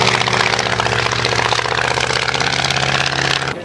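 An Airco DH2 replica aircraft engine idles after landing at an airshow, a loud, steady, rhythmic mechanical drone with a constant low hum, running continuously before easing off near the end.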